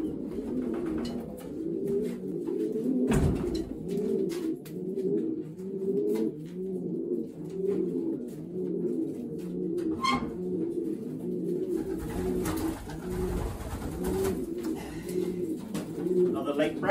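Racing pigeons coo steadily in a loft during basketing before a race, a dense overlapping chorus of low throaty calls close by, with occasional handling knocks and faint background noise throughout.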